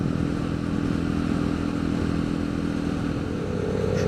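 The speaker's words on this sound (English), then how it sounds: "That's a Harley Davidson." A Harley Davidson motorcycle rumbles past on a weekend road ride, a steady loud engine drone holding throughout at close range with no voices.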